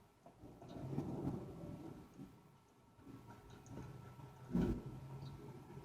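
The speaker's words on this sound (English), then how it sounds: "that's definitely a thunderstorm right there" Distant thunder from a thunderstorm rumbles faintly with low, rolling swells and one sharper boom near the end, heard quietly with no voices.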